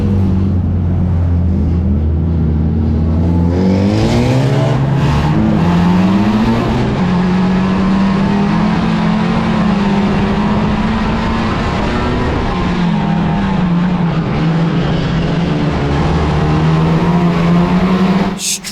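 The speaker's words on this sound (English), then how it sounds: "when I put my foot back on the accelerator the car wouldn't rev up properly" A race car engine in a caravan destruction derby video game drones loudly and steadily, its pitch climbing sluggishly and hanging at a strained level rather than revving freely, with a brief dip midway.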